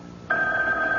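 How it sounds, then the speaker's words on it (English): A telephone rings late at night in a house, a steady electronic ring that starts abruptly and holds loud and close. "It's the phone."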